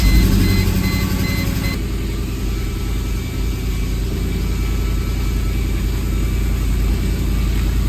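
A Mercedes W202 C43 AMG engine runs steadily at idle after new ignition coils were fitted, a loud, even, low rumble that holds throughout with no voices.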